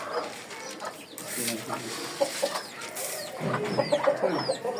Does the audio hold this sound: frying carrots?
no